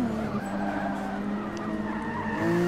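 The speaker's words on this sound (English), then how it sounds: "As Muller does another big slide, he may or may not have locked up his brakes into that turn" A Peugeot touring race car skids through a corner at Brands Hatch in Forza Motorsport 6, a long steady tire squeal over droning engine noise, loud and continuous for the whole stretch.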